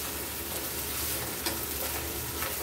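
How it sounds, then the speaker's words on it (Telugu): Ginger garlic paste, onion and green chilli pieces fry in oil for a mutton curry, a continuous close sizzle and crackle with faint stirring scrapes throughout. "అల్లము వెల్లుల్లి పేస్ట్, ఉల్లిగడ్డ, పచ్చిమిరపకాయ ముక్కలు ఇట్లా ఫ్రై అయిపోవాలన్నమాట."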